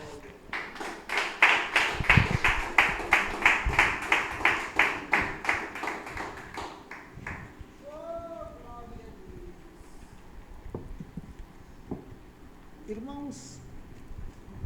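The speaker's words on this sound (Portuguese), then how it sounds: "Poderia sentar e bater as palmas" A church congregation claps in unison at a steady beat for several seconds, then the clapping fades out and speech continues in a large, reverberant room.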